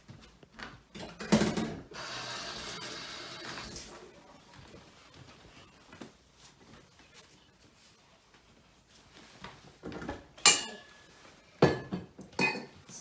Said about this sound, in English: Okay, I'm just gonna put this in the sink.